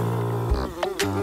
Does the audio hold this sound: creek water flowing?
no